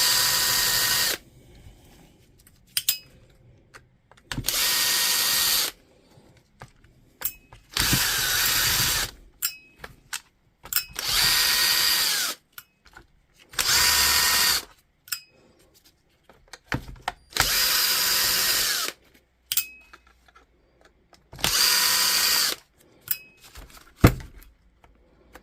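A power driver backs T10 Torx screws out of a DeWalt tool during a repair, giving about eight short, loud whirring bursts separated by quiet pauses and small handling clicks.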